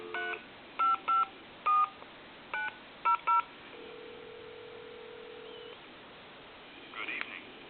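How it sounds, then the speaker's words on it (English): Touch-tone dialing on a Hot Dog novelty telephone, model HD-8003: seven short, evenly paced DTMF beeps ring out clearly over a quiet line hiss, then a steady tone holds for about two seconds before a faint click. "I'm going to dial time and temp."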